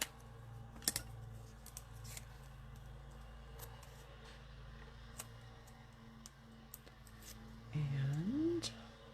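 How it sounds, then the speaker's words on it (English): Scissors snip a flower stem for a handmade card, giving a quiet, crisp cut and a few light clicks in a hushed room, with a brief vocal sound near the end. "Cut a little bit off."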